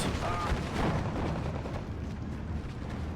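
Mortar fire in the World War II strategy game Steel Division 2, dull booming impacts and artillery rumble in a dense, continuous battle din, with a voice commentating over it.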